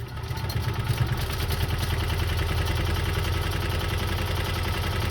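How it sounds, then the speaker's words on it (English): A Singer 128 sewing machine running steadily as it sews a seam, with a fast even mechanical clatter and a low motor hum that holds close and fairly loud throughout, and no talking. "for starters, we'll just sew a seam here"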